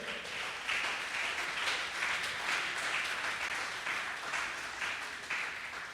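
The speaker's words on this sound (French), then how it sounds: "Des applaudissements pour ce beau monde," Applause fills a TV game show studio as a school quiz contest nears the end of its first round, a steady wash of clapping from a crowd, moderately loud, with no voices over it.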